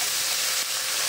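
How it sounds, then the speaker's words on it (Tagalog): Garlic and tomato sautéing in a hot pan for an Iloilo-style kangkong dish, a steady, close sizzle of frying food with a brief dip partway through, with no talking. "Tapos, gigisa tayo ng bawang. Saka kamatis."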